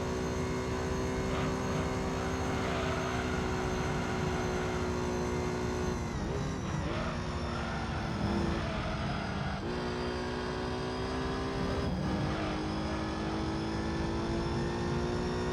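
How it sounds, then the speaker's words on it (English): The Ford Tickford Falcon in Gran Turismo 3 gives a continuous, steady engine drone with a few brief dips and shifts as it drives around in circles, with no voices present. "I wonder if the Ford Tickford Falcon is going to sound like what it actually sounds like"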